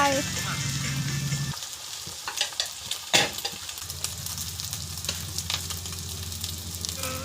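Cooked rice with Maggi sauce and boiled instant noodles is stir-fried in a pan. The sizzle runs steadily with irregular scraping and clacking of the utensil, close and fairly loud.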